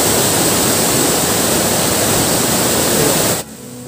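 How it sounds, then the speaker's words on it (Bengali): Kanchenjunga Falls, a roughly 100-foot waterfall in Pelling, Sikkim, swollen in the monsoon season, roars as a loud, steady wash of falling water that cuts off abruptly near the end. "আজকে দেখুন কাঞ্চনজঙ্ঘা ফলসের এই রূপ।"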